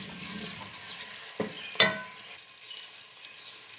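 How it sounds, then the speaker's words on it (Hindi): Crushed ginger and garlic fry in a pan with a soft, steady sizzle, while a spoon scrapes and stirs with two distinct clinks, all quiet and close. "अब इसमें जाएगा अदरक लहसुन कुटा हुआ।"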